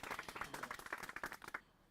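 A small group claps briskly for about a second and a half, quick uneven claps that stop abruptly and leave near silence.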